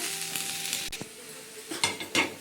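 A metal cooking pot is set down on a stove with a few sharp clanks and scrapes, close and clear, while frying sizzle and quiet kitchen clatter go on underneath.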